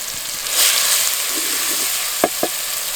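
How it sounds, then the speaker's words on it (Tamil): Ground garlic frying in oil with cumin seeds in a pan, a steady crackling sizzle throughout with a brief swell early on and two sharp stirring knocks near the end. "இப்ப அரைச்சு வச்சிருந்த வெள்ளை பூண்டை சேர்த்துக்கலாம்."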